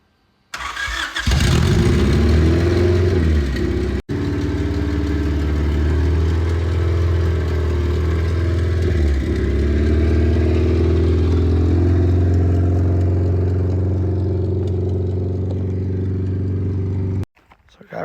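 A car engine, a Tahitian hatchback, starts with a brief crank and settles into a steady, loud idle that runs for about fifteen seconds before cutting off abruptly.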